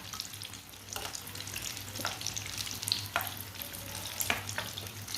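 A breakfast flatbread fries on a pan over steady heat, a soft continuous sizzle with faint periodic scrapes or taps every second or so, fairly quiet with no talking.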